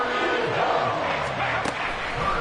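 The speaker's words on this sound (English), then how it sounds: "This crowd turning up the decibel level." A loud football stadium crowd roars in a steady, dense wall of cheering and noise during a tense third-down play, with no break for the whole stretch.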